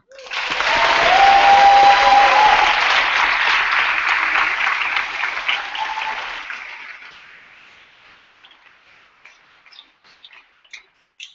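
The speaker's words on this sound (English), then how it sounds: "we should clap for them" An audience at a debating tournament grand final bursts into loud sustained applause that swells, holds for several seconds, then thins to a few scattered last claps.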